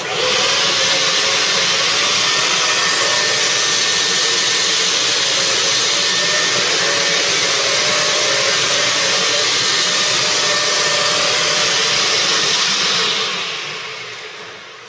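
A dry carpet-cleaning machine with a dirt cup runs steadily at close range, a loud continuous motor whine with broadband airflow roar that holds level for about thirteen seconds before trailing off as it powers down.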